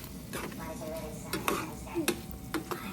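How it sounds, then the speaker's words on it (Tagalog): A utensil stirs a shrimp dish in a pan, giving soft scraping and several light clinks against the metal at irregular moments, close and moderate in level, with a faint sizzle underneath. "Haluin ng konti."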